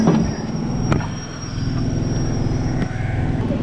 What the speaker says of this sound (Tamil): இப்போது திருநின்றவூர்லேருந்தும் ட்ரெயின் ஸ்டார்ட் ஆகிடுச்சிங்க.